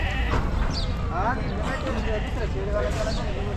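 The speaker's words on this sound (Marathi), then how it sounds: "या सगळ्या पिल्लावाले शेळ्या आहेत" Several goats, nannies with kids, bleat in short cries over a steady rumble of background noise and voices from a busy livestock market at Talegaon Dhamdhere, Shirur.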